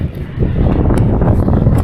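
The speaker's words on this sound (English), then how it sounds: "Definitely a little windy up here, as I'm sure you can hear." Loud, gusty wind buffets the microphone in a constant low roar with no voices, on the summit of Mount Baldy in Los Angeles County in December.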